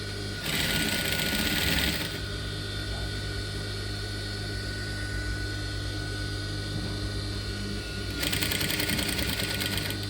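A sewing machine back stitching a fabric top runs in loud, fast mechanical bursts, with a steady motor hum in between and a second burst near the end.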